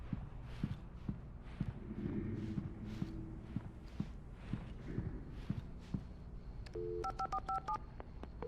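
In the video game Alan Wake Remastered, a gas-station telephone is dialed near the end as a quick run of touch-tone beeps. Footsteps and quiet ambient game sounds come before it.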